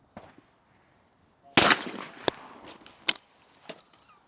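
A single shotgun blast at a sporting clay target cracks out sharp and close, followed by a short decaying echo and a few fainter clicks and knocks, with quiet outdoor background before it.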